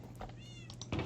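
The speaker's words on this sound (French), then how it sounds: "il doit y avoir un chat ou deux" A cat in a snowy Minecraft village gives a single short, fairly faint meow over a low steady background hum, with no one speaking.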